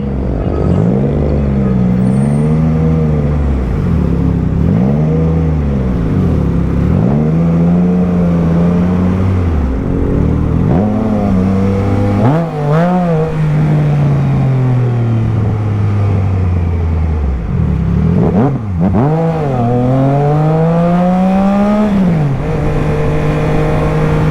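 Engine of a Triumph Trident 660 motorcycle on a highway, loud and close, rising and falling in repeated revving sweeps as it accelerates and shifts through gears amid traffic, with no talk.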